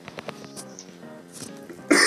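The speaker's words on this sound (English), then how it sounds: "Excuse me, I have to cough, so hold on." A person coughs once, sharply and close to the microphone, at the very end, after a stretch of quiet humming and tonal background sound during a PokeMMO gaming session.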